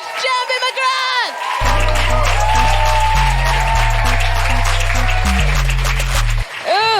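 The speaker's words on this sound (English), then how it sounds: "Just a little claps. And let's make them really big and go crazy." A comedy club audience claps and cheers to welcome a comedian to the stage, a loud, dense burst of applause that swells and holds, with a music sting over it and voices at the start and end.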